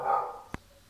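A small dog gives a single sharp bark, close and brief, following a fading indoor tone.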